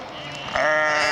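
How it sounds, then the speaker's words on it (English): Sheep bleat loudly and close by, a sustained wavering cry rising partway through over faint outdoor background. "And a load of noisy sheep as well."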